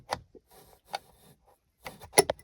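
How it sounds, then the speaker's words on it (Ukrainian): Plastic trim cap on the panoramic-roof headliner of a BMW X5 being pried loose with a thin tool, giving a few short scraping clicks and a sharp snap near the end, close and otherwise quiet. "Беремо щось таке максимально тоненьке, щоб підлізти отак під цей пластик."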